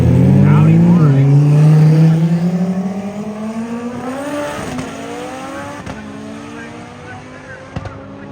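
Audi race car accelerating hard at a roll racing event, a loud, close engine note climbing steadily in pitch through the gears before fading away, with an announcer talking over it.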